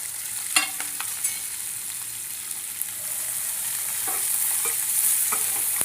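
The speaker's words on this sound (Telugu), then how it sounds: "ఉల్లిపాయలు, పచ్చిమిర్చి వేసుకుని మంచిగా కలుపుకోవాలి" Onions and green chilies stir-fried with garlic in a pan give off a steady hiss and sizzle, broken by occasional sharp scrapes and clinks of the spatula, with no talking.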